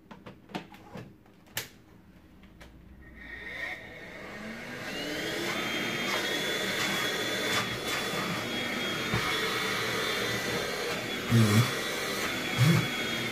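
A Philips Speedpro cordless vacuum cleaner with a repaired brush head starts after a few handling clicks, its whine rising and then holding steady and loud, with a couple of thumps near the end.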